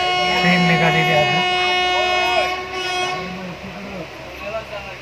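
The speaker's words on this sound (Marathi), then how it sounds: "ट्रेन निघालेली आहे." A train pulls away from Talegaon station, its rumbling carriages joined by a long, sustained horn blast, close and loud, while people talk over the moving rail noise.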